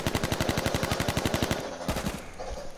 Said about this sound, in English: Just shot the backside of the barn.